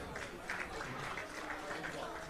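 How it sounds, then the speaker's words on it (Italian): Steady crowd applause greeting the Benevento football team as it arrives on stage at an Italian sports awards festival, with a voice carrying over the clapping. "applauso anche al Benevento"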